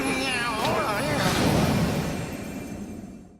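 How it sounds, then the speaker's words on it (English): A cat meows in the video game Nioh: a few drawn-out, wavering cries near the start over a dense in-game ambient backdrop that fades toward the end. "Even cats speak in these lands."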